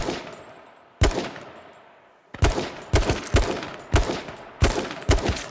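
Loud video game gunfire from a battle royale shooter: about seven sharp, reverberant shots arrive in an irregular rhythm after a lone opening shot and a short pause, with no talk.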